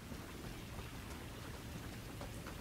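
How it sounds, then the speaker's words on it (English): Rain in Helldivers 2, a dense constant hiss of falling drops with low rumbling underneath, faint and steady with no voices. "Ooh, rain."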